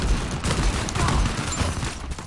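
Gunfire from a multiplayer match of Uncharted 4, a steady dense spray of shots with rapid, overlapping reports that runs through the whole moment at a fairly loud, close level.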